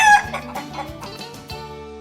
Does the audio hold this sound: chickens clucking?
yes